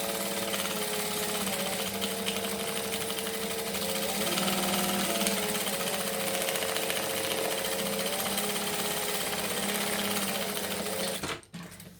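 A sewing machine top stitches 1/8 inch from the edge on a Raggabrash, a loud, continuous whirring run of about eleven seconds that stops abruptly near the end.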